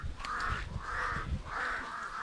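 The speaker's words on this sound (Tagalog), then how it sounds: "Daming uwak oh. Daming uwak." Several crows caw in a rural farm area of Bukidnon where a horse hauls corn, three drawn-out harsh calls spaced evenly, clear and moderately near over a low rustling background, with no talking.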